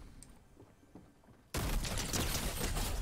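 Shotgun fire in Fortnite bursts in abruptly after a quiet stretch, a loud, dense blast of gunfire sound that holds for the rest of the moment.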